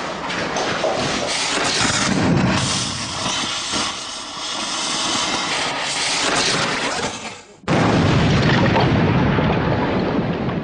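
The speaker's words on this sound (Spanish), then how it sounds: "observamos cómo la pólvora estalla a temperaturas que rebasan los 2760 grados" A huge, sustained blast of roaring rock-breaking noise as a gunpowder charge shatters granite, then a brief drop and a renewed thunderous rumble as debris crashes, loud and close.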